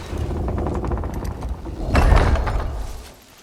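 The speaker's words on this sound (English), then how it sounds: "Let's pull the lever and open the door." In a pirate video game, a heavy door swings open after a lever is pulled, giving a steady mechanical grinding rumble that swells into a louder, deeper scraping surge before fading out.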